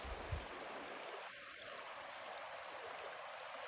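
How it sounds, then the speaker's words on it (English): A river, part of the River Dowling flood and heading to join the River Spey, flows somewhere below as a faint, steady, distant rushing hiss, with no voices over it. "Now the river you can hear below me will eventually join"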